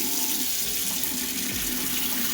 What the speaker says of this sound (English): you'll barely notice the water turning back on